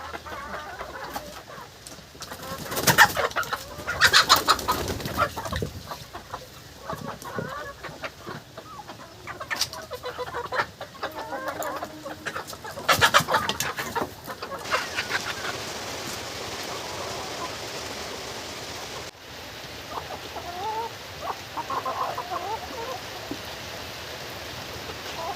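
Desi (country) chickens on a home farm cluck and scatter, with wing flaps and brief bursts of activity over a steady outdoor background that thins out in the second half.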